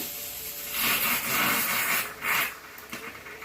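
Fresh curry leaves drop into hot oil with crushed garlic for a Tamil mochai kara kuzhambu, giving a steady hissing sizzle that swells twice into louder, fuller crackling bursts before easing back down.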